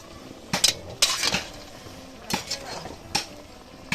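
Food stirred in a cooking pot with a utensil, giving several irregular scraping and clinking strokes against the metal over a low background hiss.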